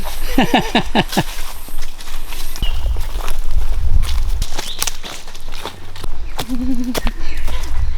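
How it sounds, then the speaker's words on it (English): Loud stomping footsteps on a forest trail, heavy rhythmic thuds close by, crunching on the ground over several seconds, with no talk. "I'm stomping really loud to let the snakes know that I'm coming"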